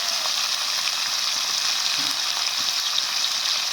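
Chopped tomatoes fry in a pan with washed chicken for an Indian kohlrabi chicken dish, giving a loud, steady sizzle with faint stirring scrapes and no voices throughout.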